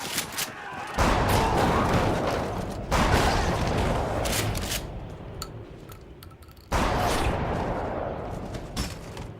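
Shotgun fire in the Like a Dragon film, loud booming blasts with long noisy tails, three heavy bursts spread over several seconds with quieter stretches between.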